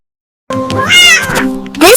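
A barn cat on a farm gives a single drawn-out meow, close and loud, rising and then falling, with a second cry starting right at the end.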